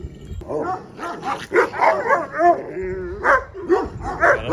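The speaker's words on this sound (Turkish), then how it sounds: "Köpekler hırslaşıyor ya." Several dogs bark and yip in quick bursts, close and loud, with whining and growly tones mixed between the barks.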